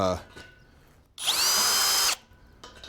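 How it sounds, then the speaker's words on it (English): A power drill with a step bit whirs loudly for about a second as it bores through material, between quieter moments of speech. "This drill bit here, this Christmas tree bit is"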